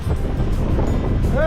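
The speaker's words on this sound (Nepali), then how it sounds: "अब चाहिँ हावा चिसो चिसो चलिरहेछ" Cold wind gusts roaring steadily on a Himalayan mountain road during a motorcycle ride toward Mustang, the broadband rush continuous and close with a brief tonal whine near the end.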